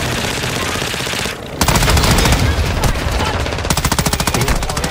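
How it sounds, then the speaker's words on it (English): Enemy gunfire in Call of Duty MW2 DMZ, loud rapid machine-gun bursts crackling close by, a brief pause and then sustained automatic fire with sharp rhythmic shots near the end. "Enemy fire, sir."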